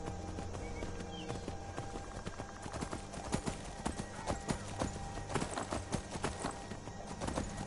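Rapid hoofbeats of a horse in Skyrim pound in a quick galloping rhythm over a busy, noisy background, getting louder and denser toward the end.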